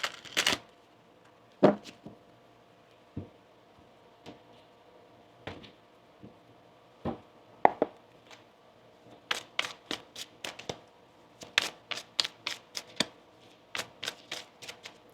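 Tarot cards being shuffled by hand in a quiet room, with sharp riffling bursts and scattered single snaps that come in quicker clusters toward the end. No one speaks.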